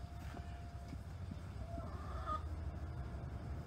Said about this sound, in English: there's an itty bitty little hen